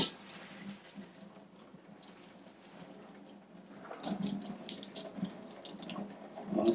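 Water drains from a pot in a kitchen sink, a soft, uneven trickle and splash at close range. It starts quiet and grows busier and louder in the second half, with no talking.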